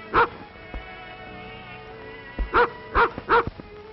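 A dog on a sheep-killer's trail barks in a 1930s film scene: one sharp bark, then a quick run of three barks close together, with a faint background hum.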